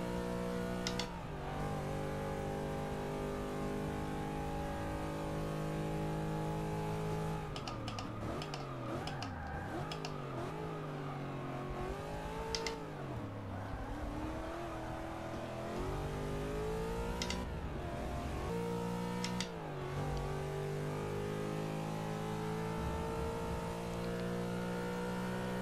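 A Ferrari race car engine in Forza 6, in an endurance race at Monza, drones loudly and steadily at high revs, with quick upshifts and dips in pitch as the car brakes and accelerates again.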